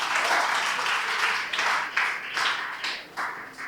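Children at a special school event clap together in uneven bursts, a close, dense patter that swells and fades in waves, with faint voices underneath.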